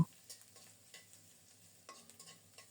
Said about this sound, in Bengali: অল্প করে সরিষার তেল দিয়েছি তেল গরম হলে কুচানো পেঁয়াজ দিয়েছি পেঁয়াজটাকে লালচে করে ভেজে নেব